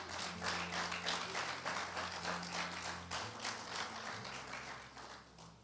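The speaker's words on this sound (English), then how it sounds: "let's clap for our mothers" A church congregation in Cambridge claps for mothers: a dense run of rhythmic, steady applause over sustained low keyboard tones, with no talking.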